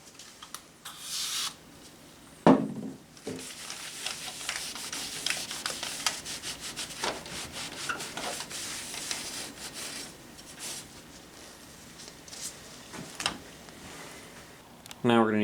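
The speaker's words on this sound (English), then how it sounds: "I'm just going to give it one more wipe." A cloth wipes down the case of a Dell Precision T3500 computer in repeated soft, close rubbing strokes with a faint brushing texture, plus a brief clunk early on.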